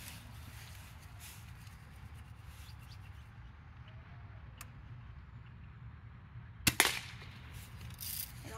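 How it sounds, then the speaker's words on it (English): A single sharp gunshot at a can on an open ranch, one crack with a short tail standing out over steady outdoor wind noise. "We're going to shoot the pink can first."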